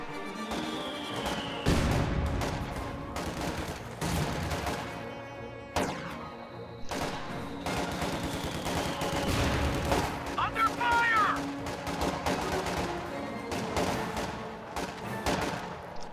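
Riflemen trading gunfire in a real-time strategy battle: dense, overlapping crackling shots and bursts with heavy impacts, loud and continuous, mixed with game effects throughout.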